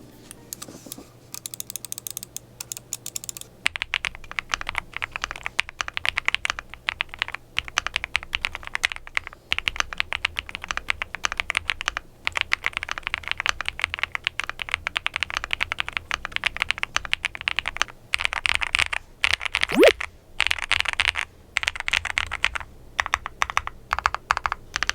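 Continuous typing on a Leobog Hi75 mechanical keyboard fitted with an FR4 plate, a dense run of close, crisp keystroke clacks with occasional louder strikes, heard alone without talk.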